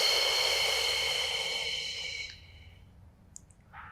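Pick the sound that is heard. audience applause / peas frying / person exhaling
person exhaling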